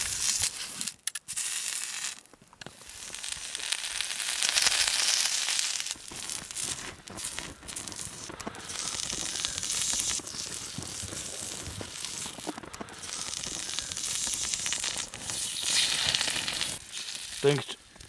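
Boodog meat from a traditional Mongolian barbecue being roasted and browned: a loud, continuous crackling sizzle with rustling and crinkling bursts and brief pauses, close by throughout.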